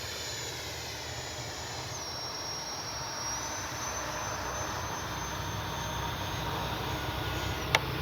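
An FMS Rafale 80mm RC jet flies overhead with a loud, steady high-pitched turbine whine over a continuous rushing roar. A sharp click lands near the end.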